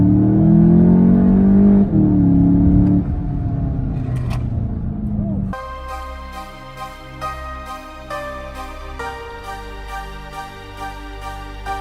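A Volkswagen GLI is punched in a roll-on from 20, its engine note climbing loudly for about five seconds before music takes over.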